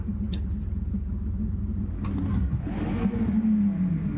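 Car engine revving in the racing game Assetto Corsa EVO, a steady loud rumbling drone with a rising whine toward the end, heard alone.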